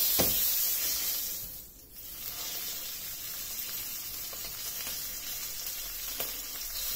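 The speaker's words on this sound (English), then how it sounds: "So I keep searing that fat" Marinated pork chops sear in a hot pan, their fat crackling in a steady, close sizzle that runs throughout, briefly dipping in loudness before settling back to an even hiss, with no talking.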